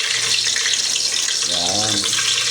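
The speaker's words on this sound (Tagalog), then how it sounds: "Pag maintika na po, mainit na po siya. Lalagay na po natin yung bawang." Garlic dropped into hot cooking oil sizzles in a steady, close, broadband hiss, with a voice briefly speaking underneath partway through.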